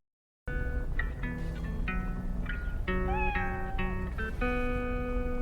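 A cat meows repeatedly in Cyberpunk 2077, a series of short tonal mews at close range over steady game ambience and music-like tones, with no talking.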